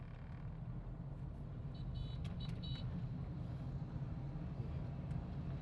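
A car in a driving lesson speeds up, its engine giving a steady, loud low rumble that holds throughout, with a few faint higher tones briefly overhead and no talking.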